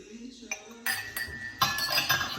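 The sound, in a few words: drinking glasses clinking together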